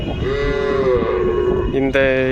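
A bull at Devakottai cattle market, a Seval breed, moos loudly and close by in a long, drawn-out low call that rises into a higher bellow at the end.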